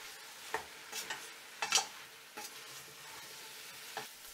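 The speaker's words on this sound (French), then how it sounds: "J'ajoute 60 g de farine de blé. Je remue pendant 3 minutes." Wheat flour being stirred into browning meat for boeuf bourguignon, a faint low sizzle with a few soft scraping strokes of the spoon against the pot, quiet and close.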